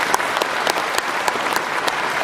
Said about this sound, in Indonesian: Tepuk tangan dulu buat panitia.